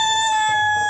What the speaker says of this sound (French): je suis en train d'élever les poulets qui sont devant moi et me regardent